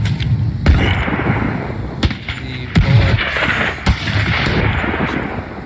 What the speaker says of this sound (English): The bullets also have sound now.